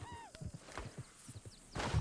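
A horse in the western game Red Dead Redemption 2 lets out a short whinny, then its hooves clop in a steady walking rhythm close by, with a louder burst of noise at the end.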